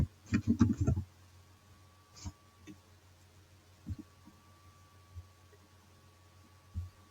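Computer mouse clicks in a quiet room, a quick cluster of sharp clicks at the start followed by a few isolated single clicks spread out over several seconds, faint and close.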